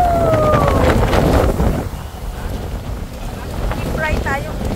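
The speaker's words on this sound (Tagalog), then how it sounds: "Masarap ang hangin pero malakas." Strong wind at Boracay's Keyhole, a busy seaside spot, roars steadily into the microphone with broad rushing noise, easing slightly midway before building again, with people talking nearby underneath.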